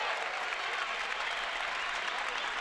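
A Turkish volleyball crowd in an Istanbul arena roars steadily against a French server, a dense wall of cheering and applause with no break.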